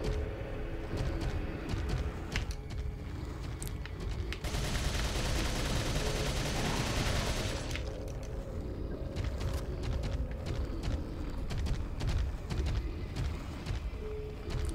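Rapid gunfire from the video game Resident Evil 4 on Professional difficulty, a dense run of repeated sharp shots with a brief steadier noisy burst in the middle, loud and close throughout.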